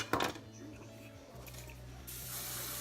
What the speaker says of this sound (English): You want to spray all this at the root